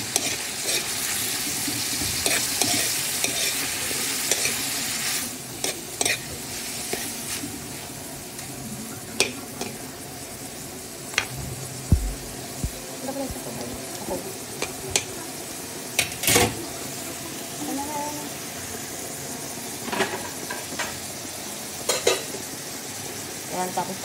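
Kalabasa squash being sautéed in a pan, a constant bright sizzle with intermittent clinks and scrapes of a spatula against the pan, close and steady over about twenty-four seconds, with occasional faint voice.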